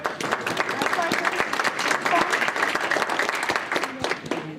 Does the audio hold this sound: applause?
yes